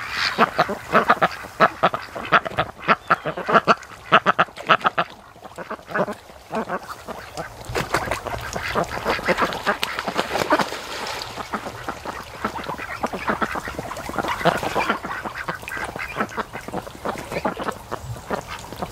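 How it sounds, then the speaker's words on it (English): Ducks at a lake quack repeatedly while mating, a busy run of nearby calls over about nineteen seconds, louder in the first few seconds and then continuing steadily with no talking. "Duck's mating."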